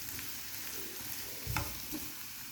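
Carrots fry in a hot pan with a soft, continuous sizzle, quiet overall, broken by a brief stirring scrape and knock near the middle.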